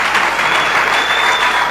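A conference audience gives loud, dense, continuous applause, steady throughout with no pauses.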